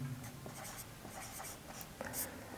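Chalk or marker scratching across a classroom board in short, quiet strokes and taps, a soft intermittent scraping with a steady room hum beneath.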